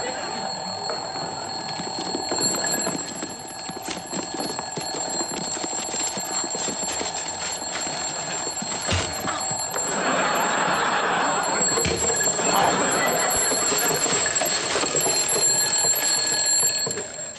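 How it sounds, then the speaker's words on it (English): A shrill electronic alarm clock rings continuously with a high steady tone over a busy background, sustained for the whole stretch. "It sounds like an alarm clock."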